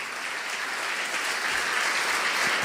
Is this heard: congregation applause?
yes